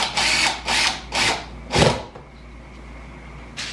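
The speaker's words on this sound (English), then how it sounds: "I am just going to screw these down in." A power drill driving screws into a wooden charcuterie board whirs in four short bursts, each a second or less, the last one longest, followed by a quiet pause and a brief final buzz.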